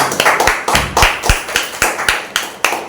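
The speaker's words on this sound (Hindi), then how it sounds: "जोरदार ताली बजाइए" Clapping from a small group at a Wednesday church service, loud and close, in a rough rhythm of distinct claps about three per second.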